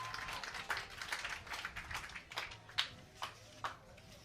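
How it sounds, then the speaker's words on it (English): A distant, quiet crowd at the 2025 European men's junior skeet shooting championship in Châteauroux, France, claps in scattered, uneven bursts for a few seconds. "a big cheer from the crowd then as he walks out"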